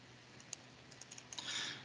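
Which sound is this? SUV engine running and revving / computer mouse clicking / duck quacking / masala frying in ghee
computer mouse clicking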